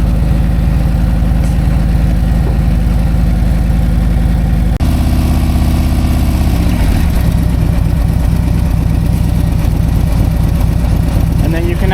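A Harley-Davidson Milwaukee-Eight motorcycle engine idles steadily up close with a deep, loud, continuous rumble, and partway through the tone shifts and the idle drops lower.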